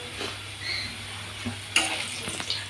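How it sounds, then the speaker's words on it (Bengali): Potatoes frying in a pan: a continuous soft sizzle under a low steady hum, with occasional spatula stirs and one sharper scrape partway through, close but fairly quiet, no voices. "আর এখানে যে আলুগুলো ভেজে নিচ্ছি"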